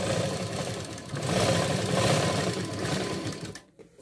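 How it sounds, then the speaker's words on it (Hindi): A sewing machine runs a double line of stitching along the tucks of a lined blouse, a close, loud rapid whir that speeds up briefly, then slows and stops near the end. "यहां पर इसको डबल सिलाई लगाएंगे"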